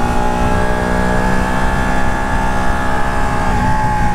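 A 2018 Ducati Panigale 1299R Final Edition motorcycle engine revs continuously under throttle, a loud, close, dense buzzing roar with steady harmonics and no talk.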